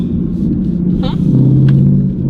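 A 2021 Mustang GT with an X pipe idles with a low, steady rumbling burble that swells slightly toward the end. The exhaust is heard from inside the car, with faint voices and a few thin sounds over it.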